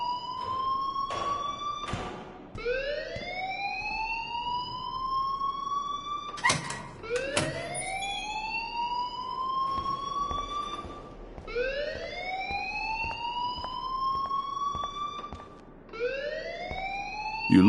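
A school alarm in the video game Life is Strange sounds in repeated rising siren-like wails, each sweeping upward and looping steadily for nearly eighteen seconds, loud and alone.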